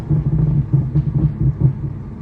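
A tuned 500 hp BMW 140i lets out small exhaust pops and crackles over a low, rumbling engine note, a series of close bursts across roughly two seconds with no talking.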